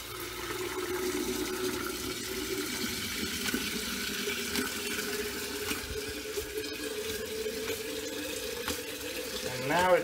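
Water runs steadily through a UKOKE six-stage reverse osmosis filtration system, a continuous close rushing and trickling like a tap filling a sink, with a slight gurgling swell at the very end.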